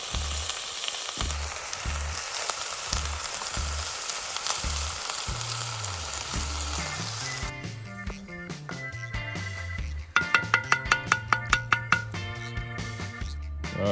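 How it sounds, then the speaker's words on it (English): Chicken curry with coconut cream simmering in a pan over a wood fire gives a continuous soft sizzle, joined later by a run of quick, close popping bubbles. "All of that bubbling away nicely."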